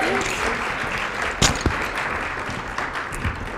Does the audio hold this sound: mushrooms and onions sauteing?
no